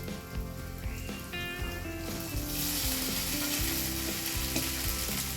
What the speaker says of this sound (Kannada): ಇದನ್ನು ಏನು ಮಾಡ್ತೀವಿ ಒಗ್ಗರಣೆಗೆ ಹಾಕ್ತೀನಿ ನೋಡಿ